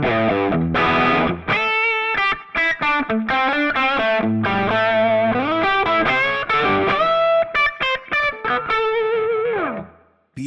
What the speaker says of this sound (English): And finally, curly crunch.